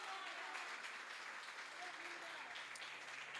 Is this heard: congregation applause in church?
yes